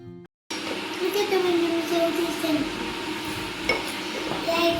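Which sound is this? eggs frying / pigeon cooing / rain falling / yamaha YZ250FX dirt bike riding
eggs frying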